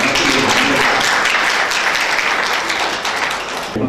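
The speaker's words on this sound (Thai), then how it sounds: "ชื่นชมแล้วก็ปรบมือให้เกียรติท่านทั้งสอง" Audience at a Thai hill-tribe sports competition opening in Mae Hong Son applauds to honour two guests, a dense, steady wash of clapping filling the whole stretch at close range before easing slightly at the end.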